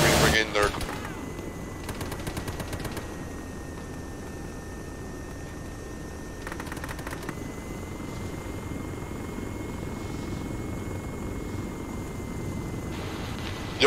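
Rapid bursts of machine-gun fire from a BRDM armoured vehicle in the military video game Arma 3, sounding over a continuous helicopter rotor drone, with radio chatter in between.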